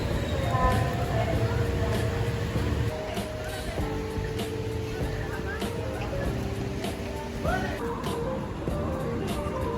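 A train at a railway station gives a steady, fairly loud mechanical rumble with sustained tonal hum and occasional clanks, and faint voices sit in the background throughout.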